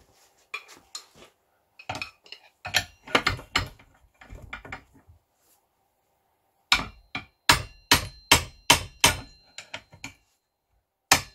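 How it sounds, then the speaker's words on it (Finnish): Sharp metallic hammer blows on a nut of a Yamaha 100cc two-stroke scooter ring out, a few scattered strikes, then a quick run of about eight rhythmic hits, close and loud between silent pauses. "lyö tähän vasaralla, niin tämä kyllä irtoaa hyvin tästä tuo mutteri"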